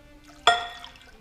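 Water is poured into a bowl of soy, teriyaki and garlic sauce in one short, sudden splash that quickly fades to a soft trickle. It is close and brief.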